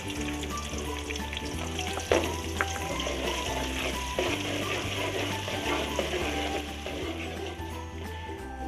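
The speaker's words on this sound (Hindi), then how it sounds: "ऑयल को अच्छी तरह से गर्म करके हमने उसमें प्याज डाल लिए" Chopped onions hitting a cup of well-heated oil for a palak gosht dish, a dense steady sizzle with crackling pops and occasional utensil clicks over a low kitchen hum, close and continuous.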